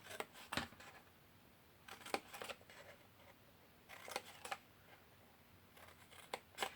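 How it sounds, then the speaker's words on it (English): Scissors cut through card along score lines of a gift box, short bursts of crisp snipping separated by quiet pauses, close and soft. "cut up these 4 score lines as well"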